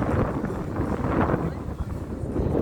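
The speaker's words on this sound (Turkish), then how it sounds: "Evet, bayağı rüzgarlı hava." Wind buffets the microphone in a continuous low rumble, gusting unevenly on the Istanbul waterfront at Galataport; a faint voice may sit under the blustery noise.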